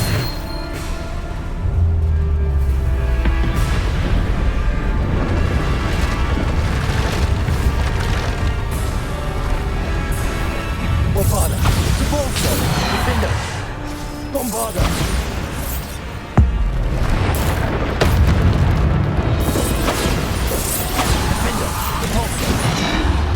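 Spell explosions from Bombarda being cast in the Hogwarts Legacy video game, with loud booms and crashes that keep recurring through a dense, continuous battle mix of game effects and music.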